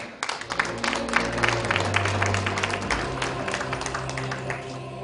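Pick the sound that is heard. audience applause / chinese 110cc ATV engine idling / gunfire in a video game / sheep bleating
audience applause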